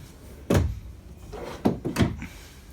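Drawers in a 2020 Coachmen Chaparral 298RLS fifth-wheel trailer are pushed shut: a solid thump, then a couple of quieter knocks and a final soft bump, close by.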